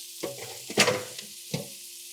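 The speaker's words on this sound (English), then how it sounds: "I wanna put my onions, it's one whole large onion in, and I'm gonna cook these down for a few minutes" One large chopped onion sautéing in oil in an Instant Pot, a soft sizzle broken by a few scraping stirs, close and brief.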